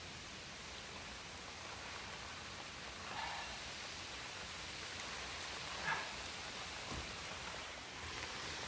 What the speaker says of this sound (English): Can't believe it's raining.